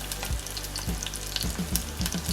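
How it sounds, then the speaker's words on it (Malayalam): Shallots, garlic and ginger sautéing in hot oil for a Kerala-style fish curry, a steady close sizzle with a few soft stirring scrapes, no voices. "ചെറിയ ഉള്ളിയും ആ വെളുത്തുള്ളിയും ഇഞ്ചിയൊക്കെ ഒന്ന് ചെറുതായിട്ട് വഴണ്ട് മൂത്ത് തുടങ്ങുമ്പോഴത്തേക്കും"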